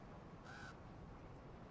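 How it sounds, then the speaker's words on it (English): A single crow gives one short caw, faint and distant, over a steady outdoor hiss of wind in a fantasy-world ambience. "and a crow."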